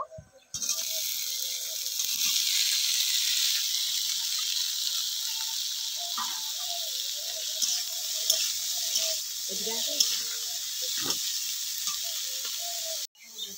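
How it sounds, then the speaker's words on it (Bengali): Drained cauliflower florets and potato pieces dropped into hot oil for singara filling, a loud steady sizzle that starts abruptly and holds throughout, with occasional stirring scrapes and clinks. "এবার এই তেলের মধ্যে জল ঝরিয়ে নেওয়া ফুলকপি আর আলুগুলোকে দিয়ে প্রথমে একটু ভেজে নেব"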